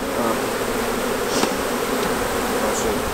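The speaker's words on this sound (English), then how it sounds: "we got these bees out of a hive, or several hives actually, a couple days ago" Honey bees shaken from comb into a screened hive buzzing as a dense, steady drone, close and loud throughout, with a few individual bees whining past.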